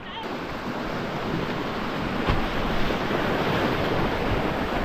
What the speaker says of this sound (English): Right through the waves.